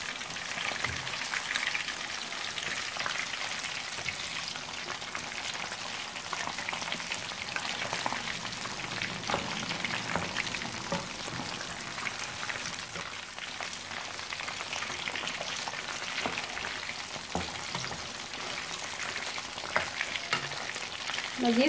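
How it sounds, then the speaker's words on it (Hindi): Rohu fish pieces fry in oil in a pan for a spicy Lahori-style fish fry, giving a continuous, fairly soft crackling sizzle that stays even from start to finish. "अब इस तरफ से तकरीबन 5 मिनट के लिए फ्राई करेंगे।"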